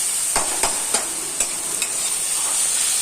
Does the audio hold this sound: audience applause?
no